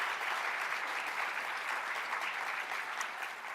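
A room full of conference attendees claps together, a dense, even wash of applause heard at moderate distance with no voices over it.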